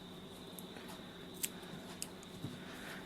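A few quiet, close snips of scissors trimming the ribbon tail of a handmade flower, three light cuts spaced apart in a hushed room.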